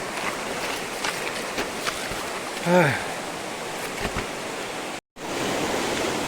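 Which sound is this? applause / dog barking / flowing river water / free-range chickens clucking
flowing river water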